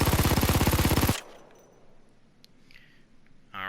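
A Mac 10 submachine gun fires a rapid full-auto burst in Payday 2's armory test range, loud and tightly rhythmic for about a second, then a quiet tail before a second burst begins.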